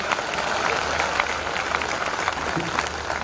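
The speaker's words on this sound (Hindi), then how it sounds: "इनका आप चाहें तो तालियां बजाकर उनका स्वागत कर सकते हैं" An audience at a Hindi poetry gathering claps to welcome a comic poet, a steady wash of fairly quiet applause heard throughout the short stretch.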